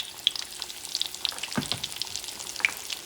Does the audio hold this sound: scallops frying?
yes